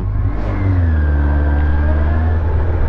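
Inline four-cylinder motorcycle engine pulling under acceleration, a loud steady drone with rising harmonic whine as revs climb smoothly, heard close without talk.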